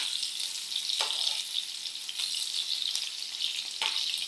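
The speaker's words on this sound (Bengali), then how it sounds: "তেল এখানে আছে রসুন কুচি পেঁয়াজ কুচি তিনটা শুকনো মরিচ আর সামান্য জিরা তো এটা আমি ভাজা ভাজা করে নিতেছি" Chopped garlic, onion, three dried chillies and a little cumin frying in oil, giving a bright continuous sizzle close by with a few sharper crackles.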